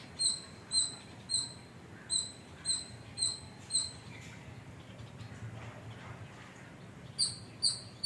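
Sparrows chirping around a home, with sharp high chirps in a steady repeating series of six or seven calls, a quieter gap, then a few more chirps near the end over a soft background hum.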